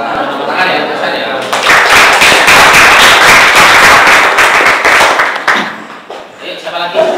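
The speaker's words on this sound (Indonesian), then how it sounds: "Tepuk tangan ya, Isan ya." A room of people clapping in a classroom or discussion session, dense loud applause that swells after a second, holds steady, then thins into scattered claps at the end, with talking over it.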